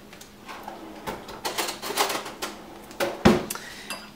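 A spoon clinks against a dish of arroz con gandules, several light metallic taps and scrapes at close range, with a sharper knock near the end.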